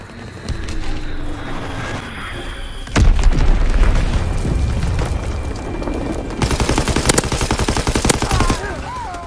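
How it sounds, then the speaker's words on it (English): Call of Duty WW2 team deathmatch battle: a heavy bomb explosion booms close, followed by sustained rapid machine-gun fire and scattered gunshots, with brief radio-style voice callouts under the din. "Enemy bomb incoming."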